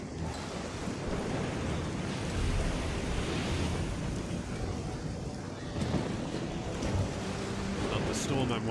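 Storm-tossed sea with steady surf and gusting wind in Risen 2: Dark Waters, a continuous broadband roar of waves and wind throughout, loud and constant with slight swells in intensity.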